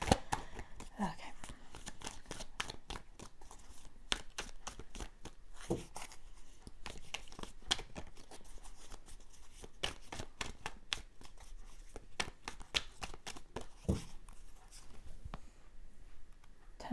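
Rapid, papery riffling of tarot cards being shuffled, steady bursts of flicking and slapping close by, with no voices.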